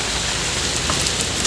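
Heavy rain pours steadily on surfaces, a dense, continuous hiss with scattered drops, loud and close, with no voices.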